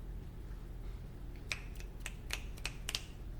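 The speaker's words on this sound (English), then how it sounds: "Come on, snap your fingers, snap your fingers." Several sharp finger snaps from about 1.5 seconds on, five or six crisp clicks in an uneven rhythm, close and fairly loud over a low steady background hum with no talking.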